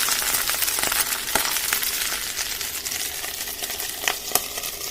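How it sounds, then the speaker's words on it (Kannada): Spices and onions fry in a pan for Malnad chicken biryani, a continuous close sizzle broken by scraping stirs and a few sharp clinks of a utensil against the pan. "ಎಲ್ಲ ಸ್ಪೈಸಸ್ ಆ್ಯಡ್ ಮಾಡಿ ಚೆನ್ನಾಗಿ ಫ್ರೈ ಮಾಡಿಕೊಳ್ಬೇಕು"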